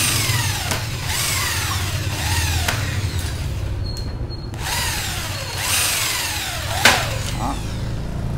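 Power drill boring a pilot hole into an aluminium window frame, loud near whine rising and falling over repeated bursts with a sharp bite near the end.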